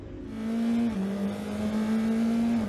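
A GB4 single-seater race car on board at Donington Park Grand Prix circuit, its engine droning loud and steady close by, pitch holding flat with a brief dip as it runs flat out.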